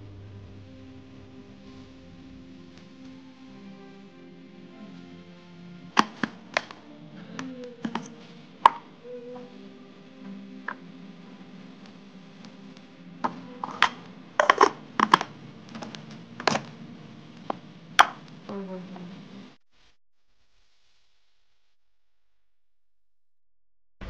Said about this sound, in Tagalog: I-chop din ng maliliit ang ating talong gamit ang chopper.